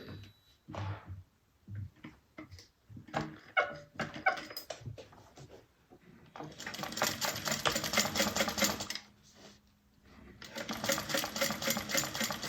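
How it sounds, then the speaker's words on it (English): A sewing machine stitches an Isabella bag, running in two long, steady bursts of rapid mechanical whirring separated by brief pauses, with softer handling clicks and rustles of fabric before the stitching starts. "And then I'm going to turn and then sew across."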